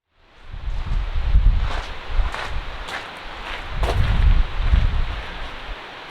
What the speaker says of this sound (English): Blustery weather be damned.